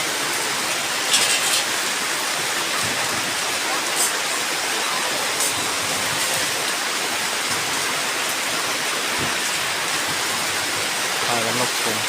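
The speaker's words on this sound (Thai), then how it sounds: "สภาพของฝนที่ตลาดมืด" Steady heavy rain pours down at a market, a loud, continuous wash of dense noise with no pauses.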